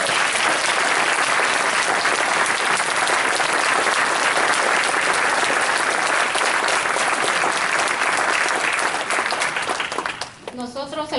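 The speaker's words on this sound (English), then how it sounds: "Let's give them a round of applause." Loud, sustained applause from a seated audience at a Michigan community assembly, steady clapping filling nearly the whole stretch before tapering off near the end as a voice begins.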